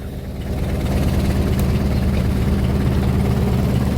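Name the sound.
diesel truck engine idling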